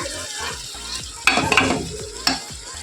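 Mixed vegetables frying in a pan for vegetable pulao, giving a steady close sizzle with a few sharp spoon-against-pan scrapes and clinks while they are stirred.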